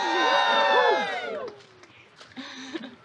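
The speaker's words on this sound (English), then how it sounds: "Everybody cheer them on the count of three" Wedding guests at a baseball stadium cheer and whoop loudly for the couple, a burst of crowd shouting that fades after about a second and a half into scattered voices and a few smaller shouts.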